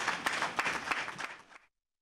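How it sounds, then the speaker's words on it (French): An audience claps briefly at a televised event in Benin, a short burst of applause of about a second and a half that stops abruptly. "Merci d'applaudir."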